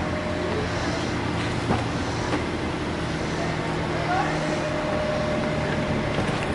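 A low, steady engine hum idles continuously, with faint muffled noises over it and no clear speech.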